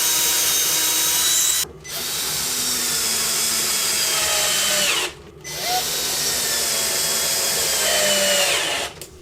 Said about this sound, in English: Now I'm going to just screw it into the back.